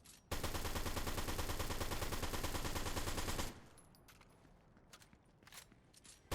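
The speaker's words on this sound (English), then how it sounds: "I can just shoot the submachine gun here and not worry about it. Just keep reloading and shooting." Rapid, loud submachine gun fire in the video game Fortnite, a steady automatic burst lasting about three seconds, followed by quieter clicks and clatter of reloading.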